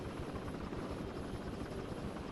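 A helicopter films a cycling race during stage 3 of the 2015 Vuelta a España near Málaga, a continuous rotor thrum at steady, moderate level with no talk over it.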